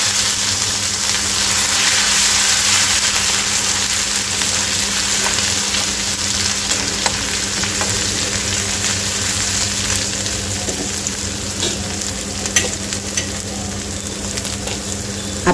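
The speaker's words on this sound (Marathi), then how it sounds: "इथे अद्रक, लसूण, मिरची याची पेस्ट घालायची आहे" Ginger, garlic and chili paste hits hot oil in a tempering with fennel over low flame, giving a loud, steady, close sizzle with faint stirring scrapes and no talking.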